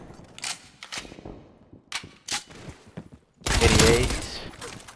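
An MP5 submachine gun in Call of Duty Cold War fires a sharp, loud burst near the end, after a few quieter clicks and bits of handling. A player speaks during the earlier part.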